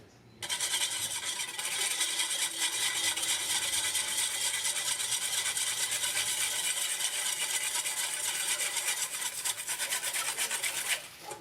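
A whisk works flour into chicken broth with a continuous, fast, close scraping and rubbing that runs steadily for several seconds before stopping.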